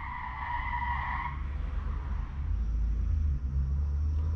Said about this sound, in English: somebody's brakes just locked up